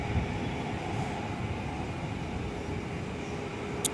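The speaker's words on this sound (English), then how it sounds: "Velocity on the roll with the 737 800 today, heading over to Kundawana" Boeing 737-800 on its takeoff roll at Perth, a steady broadband engine roar heard from a distance, fairly faint and continuous, with a brief sharp click near the end.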